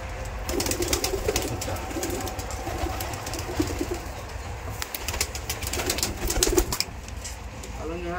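Rajshahi Giribaz flying pigeons coo at a farm, low throaty calls repeating under continuous background noise, with occasional wing flutters and faint voices nearby.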